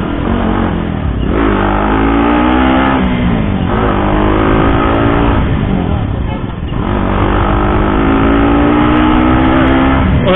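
A KTM RC 200 BS6 motorcycle with an aftermarket exhaust rumbles loudly while being ridden, the engine rising and falling through repeated rev swells over continuous wind buffeting.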